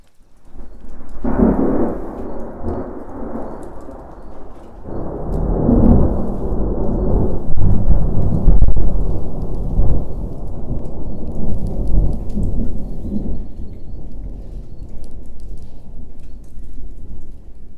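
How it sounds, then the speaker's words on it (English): A summer thunderstorm brings long, deep rolls of thunder that swell and fade in waves over steady rain, loud and enveloping throughout. "the amazing drum rolls of the thunder, the deep stillness within it"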